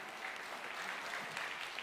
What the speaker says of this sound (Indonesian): Kami berikan kesempatan pada Anda untuk bisa memberikan tepuk tangan kepada seluruh